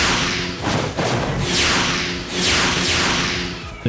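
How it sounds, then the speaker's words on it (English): Repeated loud blasts of a double cannon in the video game PSO2 NGS, sweeping laser-like zaps fired in quick succession over a steady low hum. "The double cannon has quite a loud sound effect to it."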